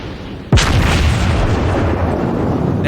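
A shell strikes a South Carolina battleship in World of Warships, one sudden loud boom followed by a long rumbling roar that slowly fades.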